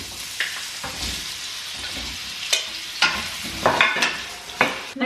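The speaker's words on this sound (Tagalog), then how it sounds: "isusutay ko lang ng saglit itong patatas para mabilis na lang" Potatoes are sautéed in a pan, giving a constant sizzle broken by repeated sharp scrapes and clacks of a utensil stirring against the pan, with no one talking.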